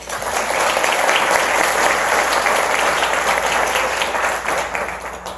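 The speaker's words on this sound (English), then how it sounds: "Please give them a round of applause." Sustained audience applause at a conference honoring donors and sponsors, a dense steady wash of many hands clapping for about five seconds, loud and close with no talk over it.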